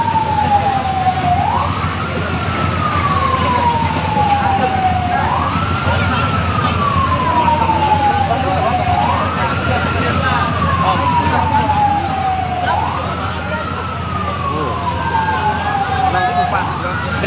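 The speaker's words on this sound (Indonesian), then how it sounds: "mobil pemadam kebakaran cuma satu akses untuk masuk ke dalam." A fire engine siren wails, rising and falling in long repeating cycles at a building fire in Aceh Singkil, steady and loud, with a constant rumble of traffic or engine noise underneath.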